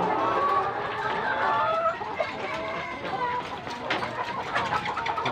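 Clucking comes from laying hens just starting to lay eggs, a crowded poultry-house chorus of overlapping calls heard over several seconds, with some background mechanical noise and speech mixed in.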